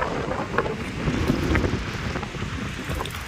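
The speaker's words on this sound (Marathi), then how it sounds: "वारा मस्त सुटलेला आहे मित्रांनो." Strong wind sweeps across a bridge over the Chandrabhaga river at Pandharpur, making a steady, rough buffeting roar against the microphone with a few gusty swells and no talking.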